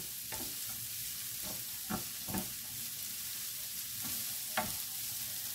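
Red onions frying in a hot pan give a soft, steady sizzle, interrupted by several brief scraping stirs spaced a second or so apart.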